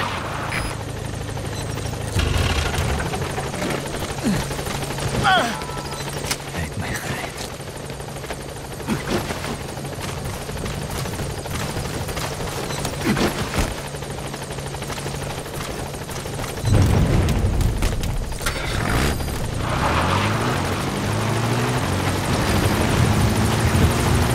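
An extraction helicopter in Metal Gear Solid V: The Phantom Pain drones and thumps close by without a break, its rotor noise rising louder near the end, with scattered impacts and game sounds mixed in.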